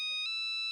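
A phone ringtone plays a steady, bright electronic tone with a brief pulse in the middle, quiet and alone.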